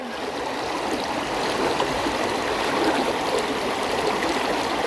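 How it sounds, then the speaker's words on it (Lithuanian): A small, very cold stream trickles and babbles steadily nearby, a constant moderate rush of flowing water with no voices. "Čia va, srovelė tokia faina."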